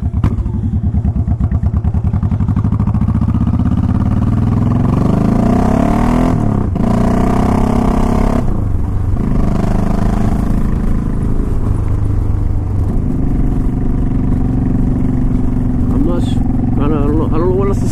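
A motorcycle fitted with ape hanger handlebars runs close by, its engine revving and dropping through several gear shifts with brief pauses between them, while someone talks over the steady clattering exhaust.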